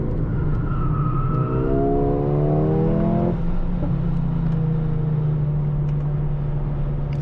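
A car with an 8-speed DCT gearbox revving as the engine climbs through rising tones then settles into a steady loud drone, heard from inside over constant road noise, with exhaust pops not clearly distinct.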